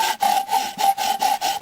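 A hand file rasping across the metal of a 1937 Maytag model 72 engine part to smooth down hammer marks, giving close, loud, rhythmic back-and-forth strokes about every quarter second.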